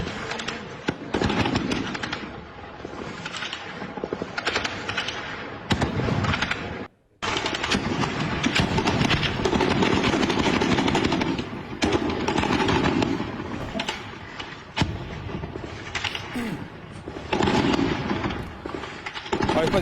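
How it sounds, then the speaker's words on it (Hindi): Heavy gunfire from a clash in South Waziristan involving heavy weapons, with dense, continuous rattling bursts that sound close and loud, broken by one short pause midway before resuming relentlessly. "साउथ वजीरिस्तान में जबरदस्त फायरिंग हुई है"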